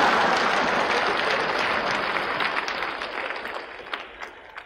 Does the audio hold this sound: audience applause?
yes